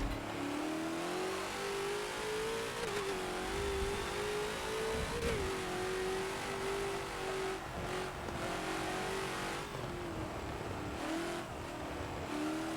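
A Ford GT40 revs hard under throttle on the Le Mans Old Mulsanne circuit in Forza, its mid-pitched engine note rising and falling through steady acceleration with a faint tire squeal, loud and continuous with no talking.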